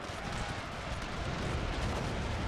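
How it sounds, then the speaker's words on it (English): Dense rumbling battle noise from the video game Pike and Shot, a Scotland versus England engagement, with continuous booming explosions and artillery-like blasts rolling together at steady loudness, no clear gaps between them. "Explosions coming around."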